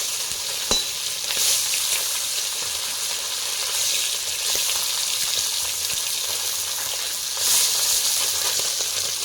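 Fish fries in a pan over an outdoor cooking fire, giving a loud, continuous hissing sizzle with crackling spits that swell a few times, and no talking over it.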